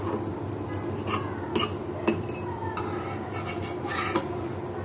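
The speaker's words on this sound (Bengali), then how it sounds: "দেখো বন্ধুরা, পাটিসাপটাটাকে আমি তুলে নিচ্ছি।" A patishapta pancake stuffed with kheer being lifted from a pan, heard as close metallic scrapes and clinks of a spatula against the pan, with a few sharper taps and no talking.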